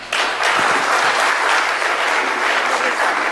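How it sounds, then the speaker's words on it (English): Conference attendees give a presenter a big round of applause, a loud, dense burst of clapping that fills the room steadily for a few seconds. "Let's give him a big round of applause."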